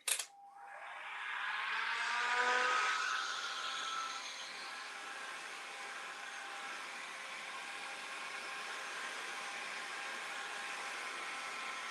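A heat tool blows steadily onto a WoodUBend pumpkin decoration, a constant airy hiss that starts with a click and a rising whine, then holds evenly for the rest of the stretch with no talking.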